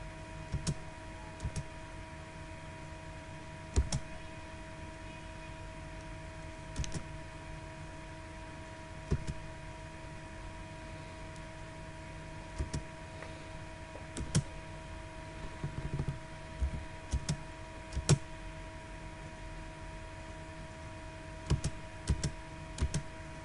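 Computer keyboard keys tapped to enter AutoCAD Electrical commands, a few sparse clicks and short bursts spread over a steady low hum, fairly quiet and close.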